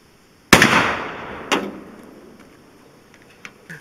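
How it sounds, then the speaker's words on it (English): A rifle fires Chinese surplus 7.62x39 ammunition into cast aluminum: one sharp, loud crack with a ringing decay, a second smaller report a second later, then faint clicks and knocks. "Okay, another shot of the Chinese surplus."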